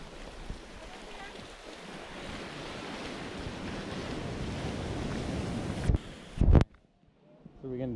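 Ocean waves at Matador Beach wash in as a steady, broad roar with wind buffeting the microphone, swelling loudly before a sharp crash and a sudden near-silent drop, then rising again.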